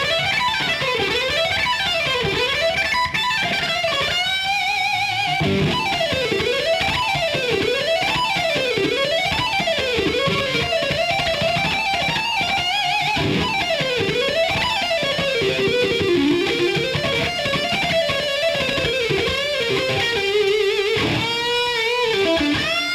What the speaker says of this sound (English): I'm just going to play those notes up and down as fast as I possibly can using hammer-ons and pull-offs